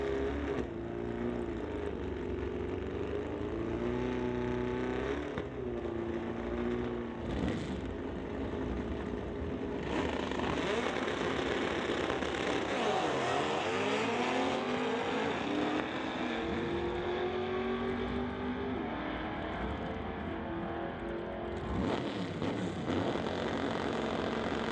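A 1964 VW and a 1970 Buick drag race down the strip, their engines a continuous loud roar that rises and shifts in pitch over about twenty-five seconds, with no voices.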